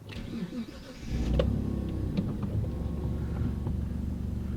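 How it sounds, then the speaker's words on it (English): A Mitsubishi 3000GT VR4 cranks briefly, catches and settles into a steady, close, rumbling idle that holds evenly to the end, with no talking over it. "So the car starts and idles fine"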